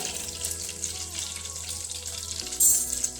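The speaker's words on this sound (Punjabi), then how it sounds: "ਮੱਖਣ ਪਾ ਕੇ ਚੰਗੀ ਤਰ੍ਹਾਂ ਗਰਮ ਕਰ ਲਵਾਂਗੇ ਉਸ ਤੋਂ ਬਾਅਦ ਪਾ ਲਾਂਗੇ ਜੀਰਾ" Cumin seeds sizzle in hot butter in a pan, a steady crackling hiss with a brighter burst of frying near the end; no talking.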